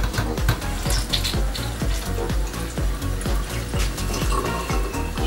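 Cold water circulates through the condenser of a Soxhlet extractor, a steady close trickling and gurgling flow with faint rhythmic pulses, with no talking.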